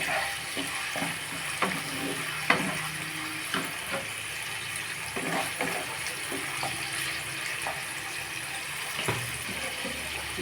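Potato and cabbage fry in a pan for chow mein, a steady close sizzle broken by clinks and scrapes of stirring, with no talk over it.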